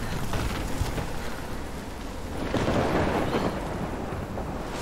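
A heavy thunderstorm rumbles through the Life is Strange video game, a continuous broadband roar of wind and rolling thunder that swells louder around the middle and stays dense throughout, with no voices.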